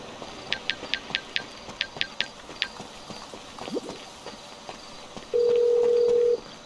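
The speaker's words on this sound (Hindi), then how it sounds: "कैब वाले को फ़ोन करता हूँ" Mobile phone dialing a cab in the video game GTA 5: about ten quick, evenly spaced keypad beeps, a short pause with faint background noise, then a longer steady tone.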